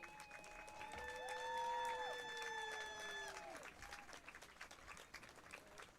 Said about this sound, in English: Give one final round of applause for the 1973 Tri-County Class A champion Union Scotties.